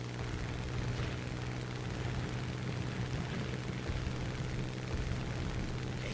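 Anti-aircraft fire in War Thunder around a Sea Hurricane Mk. IC, heard as a continuous rumbling wash of distant flak bursts and booms over a steady aircraft engine drone, fairly quiet and without talk.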